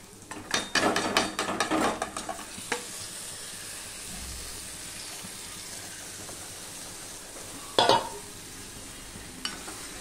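Marinated chicken hits a pan of cooked-down spices and onion with little oil, sizzling as a spoon scrapes and stirs in a quick rattling run, then a steady fry with another clatter of stirring near the end.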